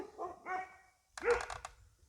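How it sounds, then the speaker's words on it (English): A dog running around lets out a few short, sharp barks, two quick yips followed by a slightly louder bark, close and fairly quiet. "She's just running around barking."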